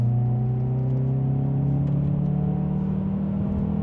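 A warmed-up Honda Accord Type S engine holds a loud, steady droning rev through a new exhaust system, its pitch shifting slightly, with a deep rumbling exhaust tone throughout.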